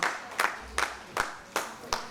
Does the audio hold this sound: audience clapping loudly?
yes